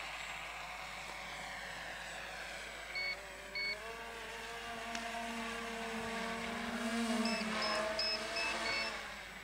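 Electric motors of an X350 Pro multicopter hum during a night flight at an RC model meetup, a steady whine rising and shifting in pitch, with a few short electronic beeps and no talk.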